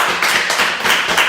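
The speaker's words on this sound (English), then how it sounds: "Clap for them, please." Short burst of people clapping for donors at a live political gathering, several quick claps in a loose scattered rhythm, moderately close and brief.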